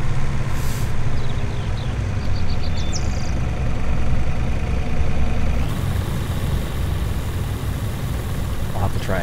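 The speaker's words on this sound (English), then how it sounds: "Combine here." A combine harvester engine in Farming Simulator 19 drones steadily and loudly throughout, with faint high beeps near the start and a shift in tone about two-thirds of the way in.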